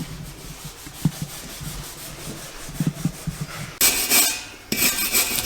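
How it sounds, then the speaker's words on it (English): Wax is rubbed off a wooden fireplace surround before varnishing. Soft irregular scrubbing strokes come first, then two harsher, louder abrasive bursts, close by and with no talk. "getting the wax off prior to varnishing"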